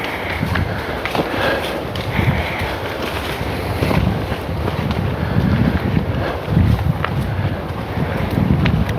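Gusty wind buffets the microphone outdoors, a loud, rumbling, uneven roar rising and falling in waves with faint rustling underneath.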